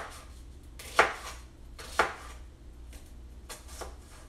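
A knife chops through an onion on a cutting board in a few sharp, close strikes spaced about a second apart, the later ones softer.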